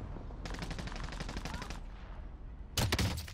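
Fennec submachine gun firing in Call of Duty on Rebirth Island, a very rapid burst of about a second and a half, then a short second burst, loud and close.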